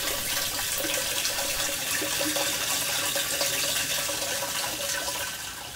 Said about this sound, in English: Once the water enters the barrel